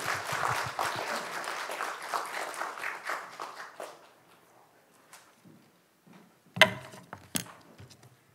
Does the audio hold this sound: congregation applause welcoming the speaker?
yes